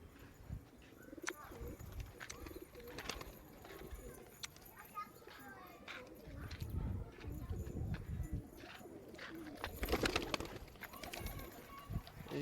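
Pigeons cooing softly on a rooftop coop, with low repeated coos, wing flutters and scattered knocks, all faint and at a distance, under some quiet background talk.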